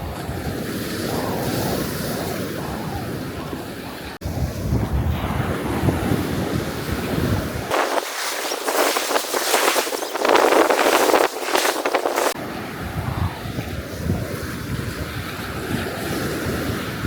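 Strong ocean waves crash and wash onto a beach on the Turks and Caicos Islands after Hurricane Erin. The surf roars loudly and steadily under heavy wind buffeting the microphone, with one especially forceful surge midway.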